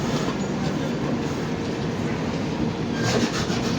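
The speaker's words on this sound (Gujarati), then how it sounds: "પ્લેટફોર્મ 2 પર ભાઈ આપણી ટ્રેન આવી છે" A train, the Hapa–Madgaon Express, pulls in at platform 2 of Surat railway station, a steady rolling rumble with faint wheel clatter and squeal, continuous and fairly close, with no talking.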